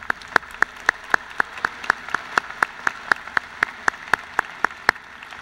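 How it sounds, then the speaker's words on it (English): An audience applauds doctoral graduates at a university commencement ceremony, with sharp, evenly spaced claps in a steady rhythm that stands out clearly over a quieter hall. "Let's applaud the doctoral graduates."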